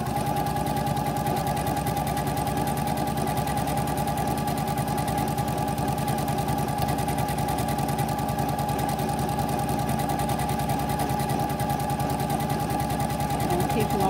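A Janome M7 Continental sewing machine stitching a quilt label, a steady, fast, even mechanical chatter running loud and unbroken throughout, with no pauses.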